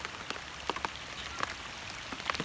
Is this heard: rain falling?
yes